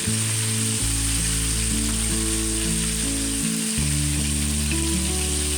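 Chicken frying in hot oil gives a loud, continuous sizzle that runs the whole time beneath steady background music.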